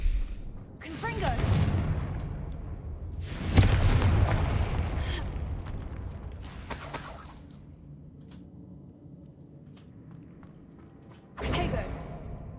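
A Confringo spell explosion in the video game Hogwarts Legacy: a few sharp booming bursts with shattering tails, separated by quieter stretches of ambient game sound, fairly loud and close.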